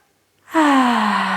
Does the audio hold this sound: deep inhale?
yes